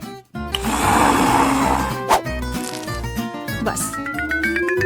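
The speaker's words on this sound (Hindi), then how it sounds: "इन सबको बस एक ब्लेंडर में अच्छी तरह से फेंटने की जरूरत है" An electric blender whirs while mixing avocado, lime juice and seasoning into a sauce, a loud continuous motor drone with shifting pitch and a brief crack partway through, with background music playing underneath.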